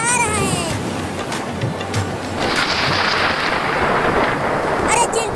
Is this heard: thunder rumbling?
yes